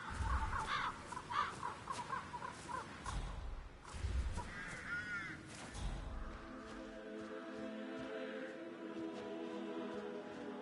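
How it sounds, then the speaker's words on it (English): Crows caw repeatedly around their nests in the Hitman 3 video game, harsh rhythmic calls close by over an ambient game background, thinning out into a sustained droning tone toward the end. "Damn birds. If I could just get a clear hit on those nests."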